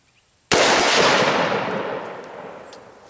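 A single loud rifle shot fired at a target about 70 yards away from a rifle topped with a Trijicon ACOG 1.5x16S sight, a sharp close crack followed by a long decaying outdoor echo.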